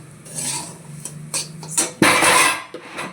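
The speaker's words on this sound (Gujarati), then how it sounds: "આવી રીતે નાખીને પછી હલાવી દઈશું" Semolina is stirred and scraped in a pan with a spoon, giving several rough scraping strokes and clinks of utensil against metal, close and moderately loud, without talk.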